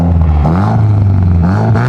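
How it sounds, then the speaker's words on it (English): Car engine revving under load with low rumbling harmonics that rise and fall, a rattly exhaust with a missing exhaust bolt and a leak adding clatter, loud and close throughout. "Rev it up a little bit."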